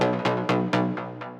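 Synth bass stab modeled on a track: five punchy, bright hits in a steady rhythm, each decaying quickly, loud and upfront with no other sounds.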